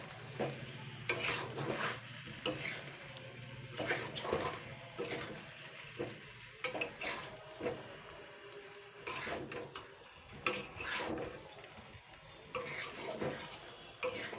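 Pointed gourd stir-fried in rendered fish oil, a spatula scraping and knocking the pan in bursts with a soft sizzle beneath, close by and without talk.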